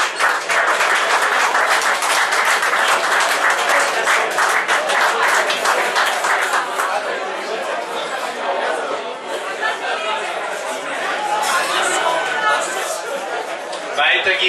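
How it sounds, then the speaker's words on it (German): Sustained audience applause and clapping for race winners at an outdoor award ceremony, loud and dense at first, then thinning into scattered claps and crowd chatter. "Applaus für unsere Sieger in der Klasse Damen 1 Langstrecke."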